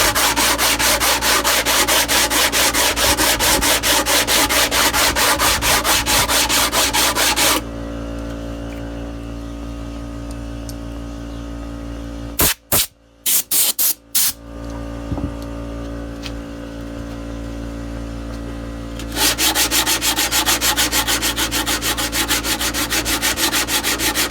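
Power sanding on a wooden piece with a sanding pad, a loud continuous whirring rub that drops to a lower hum midway, with a few abrupt cut-outs and clicks, then resumes at full strength; no talk.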